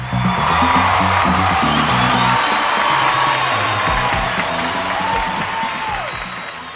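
Theatre audience at a comedy show in Castilla y León breaks into loud, sustained applause with cheers and whoops, the clapping dense and steady throughout before easing slightly at the end.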